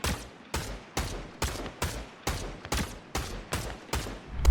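Steady gunfire in a shooter video game: about ten evenly spaced, sharp shots in quick succession, loud and close, with no talking.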